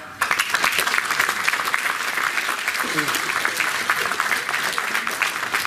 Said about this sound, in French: Merci d'applaudir Farhad.